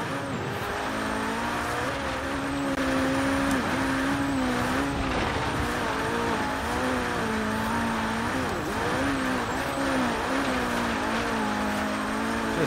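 An Abarth Fiat 131 rally car in Forza Horizon 3 races flat out over a jump, its engine loud and continuous with pitch rising and falling through gear changes and revs, no talk.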